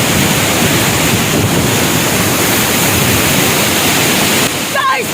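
Water pours heavily at the Chooral (Ariyil) waterfall, heard from right beneath the falling stream as a loud, constant roar with wind-like buffeting; a faint voice comes through briefly near the end.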